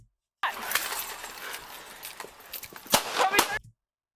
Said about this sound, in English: Now she shot.